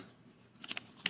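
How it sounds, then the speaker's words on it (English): A pair of blue scissors with a sheath is handled quietly, giving a few faint clicks and light metallic snips near the end over a low background rumble. "Ooh, it's a pair of scissors."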